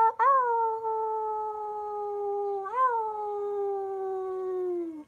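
A person imitates a wolf howl with two long, sustained howls, each rising at the start and slowly sliding down in pitch, sung clearly and alone with no other sound.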